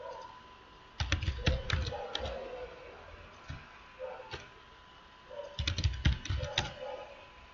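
Typing on a computer keyboard nearby, in two quick bursts of clustered keystrokes separated by a few isolated taps, fairly faint against quiet room hiss.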